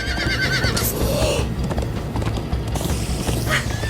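In the Minecraft: Story Mode video game, a horse neighs loudly and shrilly while galloping hooves clop beneath it, all up close and dense, with no speech over the sound.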